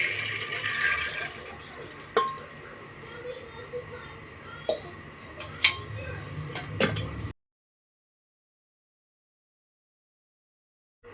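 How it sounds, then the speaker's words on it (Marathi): Water and lentils are poured into a pressure cooker, a splashing pour with a few sharp metallic clinks, followed by silence. "हे जसंच्या तसं पाणी आणि डाळ कुकरमध्ये टाकून देते"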